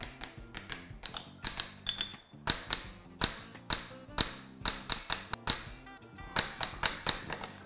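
Drinking glasses struck to tap out a children's song, a sequence of bright ringing clinks in an uneven melodic rhythm. The clinks are fairly close and sound alone, with no talking between them.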